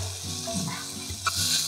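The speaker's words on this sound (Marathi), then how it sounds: "छान हा मसाला परतून घेतलेला आहे" Tomato masala with garlic paste, garam masala, coriander powder, red chilli and turmeric sizzling in a pan, a soft continuous frying hiss with a brief stirring scrape near the end.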